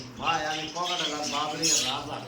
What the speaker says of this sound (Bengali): এখানে তো বেশ অনেক ককাটেল পাখি দেখা যাচ্ছে